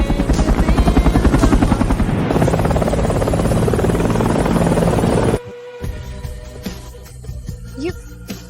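A helicopter's rotor beats loud and close with a fast rhythmic chop, then cuts off abruptly to quieter scattered sounds of movement and faint voices.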